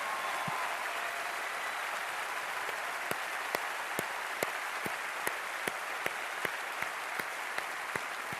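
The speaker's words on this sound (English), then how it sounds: "Standing ovation." A crowd gives a standing ovation, with sustained, dense applause and a regular series of sharper, nearer claps cutting through the steady roar.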